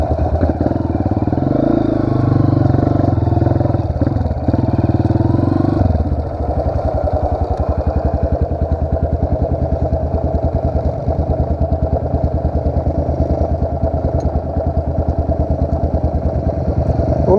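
A Pro Tork TR100F mini motorcycle engine on a dirt trail runs with a throaty revving note at first, then drops to a close, steady, rhythmic idle-like chug.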